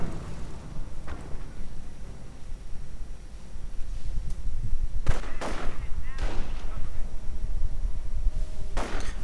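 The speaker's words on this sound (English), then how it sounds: "More incendiary grenades now." Incendiary grenades burst in a real-time strategy war game, several sharp blasts and whooshes over rumbling battle noise while a commentator talks throughout.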